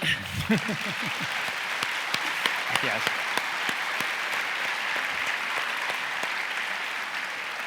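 Audience applause welcoming author Luis Zueco at a historical novel event in Pozuelo, a steady crowd of clapping with a few sharp individual claps standing out, and a brief voice under its opening moment.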